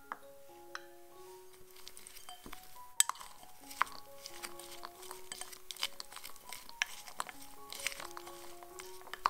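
Dried fruits tossed with Cointreau in a bowl give a steady run of soft clinks and scrapes of a utensil against glass or metal, close and fairly quiet, with no talking.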